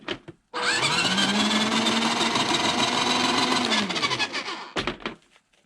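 The electric motor of a Double Eagle 1/8 scale RC crawler, a Land Rover Defender model, spins up to a steady whine. It holds for about three seconds, winds down, then gives a brief second burst, close and loud.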